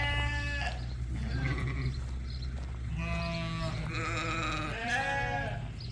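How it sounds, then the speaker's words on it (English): Adult Dorset ewes bleat inside a barn, several overlapping calls one after another, fairly close, over a low steady hum. "As you can see, these are the adult ewes. Every single one of them is in the barn."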